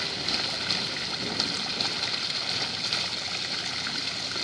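Steady rushing of flowing stream water fills the clip, a continuous broadband wash with no pauses, close and moderately loud.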